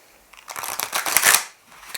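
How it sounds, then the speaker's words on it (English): A deck of cards being shuffled for a tarot-style reading, a dense burst of rapid riffling clicks lasting about a second, fairly close and clear, with no talk over it. "I'm gonna shuffle one more time and cut"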